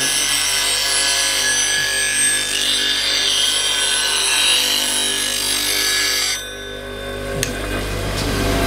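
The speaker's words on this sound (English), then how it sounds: "you just go straight to the grinder and just touch it up quickly" A bench grinder freehand touches up a woodturning tool, a loud continuous grinding whir with scraping that drops away abruptly near the end, leaving a quieter hum.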